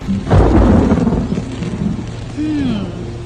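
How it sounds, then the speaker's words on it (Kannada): Thunder rumbles loudly overhead as rain begins to fall outdoors near Ingolstadt, Germany, with a steady wash of rain continuing after the deep roll. "ಮಳೆ ಶುರುವಾಯ್ತು"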